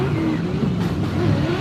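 Speedway race cars roar together as they accelerate off the start, a loud, dense engine drone with rising pitch that fills the air continuously.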